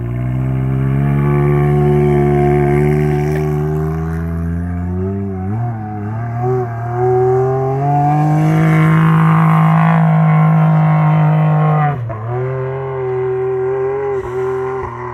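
An off-highway vehicle's engine roars loudly and close in sand dunes, its pitch rising and falling as it revs and accelerates, with one sharp dip partway through.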